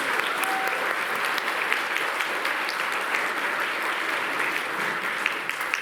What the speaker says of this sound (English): another round of applause for the students